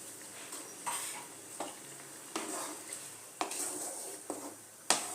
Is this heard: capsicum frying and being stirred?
yes